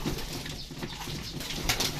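A homing pigeon returning to its loft gives short, low coos up close, with some rustling around the calls.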